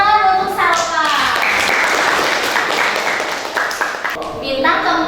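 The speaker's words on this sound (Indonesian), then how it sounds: "Tepuk tangan untuk Saropa." Classroom clapping for a student named Saropa during a university teaching-practice lesson, a dense, steady patter of many hands lasting several seconds, with children's voices mixed in at the start and end.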